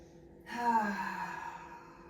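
A single long exhale during a cool-down stretch in a posterior chain workout, a soft voiced sigh that starts abruptly after a quiet moment and fades gradually.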